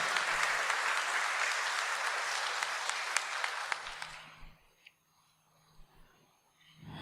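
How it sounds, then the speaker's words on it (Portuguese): A church congregation at Sunday Mass claps after the Gospel reading, a broad sustained applause that swells for about four seconds, then fades into a quiet room with a few faint knocks and shuffles. "Uma salva de palmas para a palavra."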